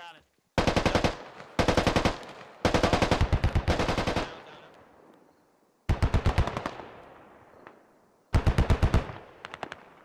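Rapid machine gun bursts in the Squad video game come in several separate volleys, each a sharp rattle of closely spaced shots with short echoing tails and gaps of silence between them.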